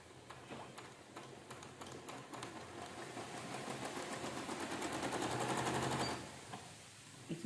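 Sewing machine stitching the bodice of a baby frock, a fast steady mechanical clatter that grows gradually louder over about six seconds before stopping, heard up close.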